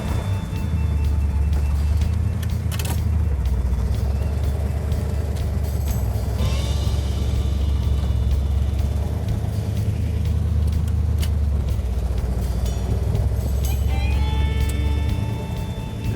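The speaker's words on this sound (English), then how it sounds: "Now we're gonna go ahead and get the car running and put it in gear" A 1970 Plymouth 'Cuda 383 V8 idles in gear with a deep, steady rumble, close by, with occasional light clinks and squeaks over the drone.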